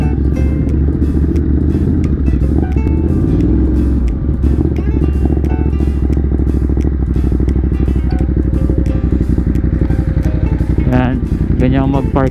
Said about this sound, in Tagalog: Ganyan mag-parking ng big bike, bababaan mo talaga.